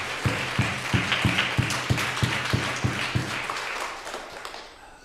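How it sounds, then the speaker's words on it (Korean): Congregation applause during a Sunday church service, with rhythmic unison clapping over a dense wash of hands that fades out toward the end. "우리 영광의 박수를 다시 한번 드리겠습니다"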